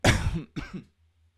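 A short burst of coughing, two harsh coughs close to the mic, then a faint low hum remains.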